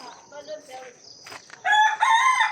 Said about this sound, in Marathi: माझ्या पाठीमागे ज्या कोंबड्या दिसतात त्या आज आपल्याला चाकण मार्केटमध्ये न्यायच्यात विकण्यासाठी.